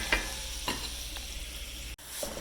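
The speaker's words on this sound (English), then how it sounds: "I'm just going to transfer all of these vegetables over to that skillet" Vegetables for pork chorizo tacos tipped into a hot skillet, with a few scraping stir strokes over a steady low sizzle, a brief drop in sound near the end before the frying resumes.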